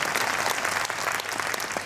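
An audience at a Shri Khatu Shyam katha claps for Baba Shyam, a dense, steady burst of applause from many hands, loud and unbroken.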